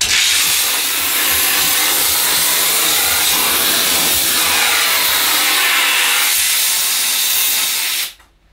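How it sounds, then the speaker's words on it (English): Dupray Neat steam cleaner blasting steam under a shower screen: a loud, steady, broadband hiss that holds for about eight seconds, then cuts off abruptly. "You can see all the gunk that the steam has blasted from underneath the shower screen"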